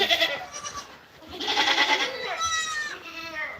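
Goats in a farm pen bleat repeatedly and close by, several overlapping cries rising and falling in quick succession.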